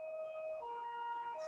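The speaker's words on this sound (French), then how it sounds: "On entend une sirène" Emergency siren outside, heard faintly through a room, its two alternating tones wailing steadily for a brief stretch with no talk over it.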